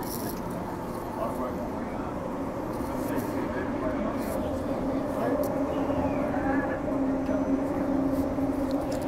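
Inside a crowded train travelling to Shenton Park in Perth, a steady broadband rumble of the carriage in motion runs throughout, with a faint sustained tone and murmuring passengers in the background.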